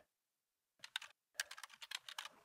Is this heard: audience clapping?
no